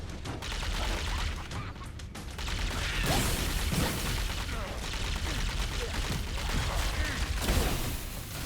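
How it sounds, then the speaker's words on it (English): Plasma rifle fire and combat effects in a Halo: Campaign Evolved game trailer, loud and dense bursts of energy shots and booms layered with music and mechanical noise, continuous throughout. "the plasma rifle sounds good"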